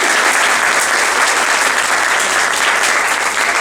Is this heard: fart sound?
no